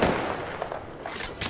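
Rapid gunfire crackles through a video game firefight, a dense, loud stream of overlapping shots and impacts over about a second and a half.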